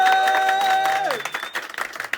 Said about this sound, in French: On applaudit les combattantes